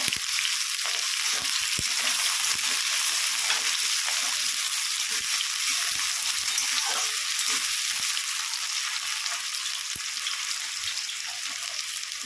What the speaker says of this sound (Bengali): আলুগুলো ভেজে তুলে নেব